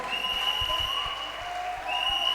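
A church congregation claps in a quick, irregular patter of hands, fairly close and full, over a low steady hum from the hall's sound system.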